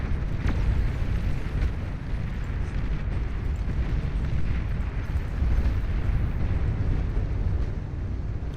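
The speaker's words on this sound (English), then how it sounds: "Shooting down all these fighters feels pretty good" Video game Nation Wars battle with fighters being shot down: a continuous low rumbling roar of explosions and booming blasts, loud and dense throughout with no talk.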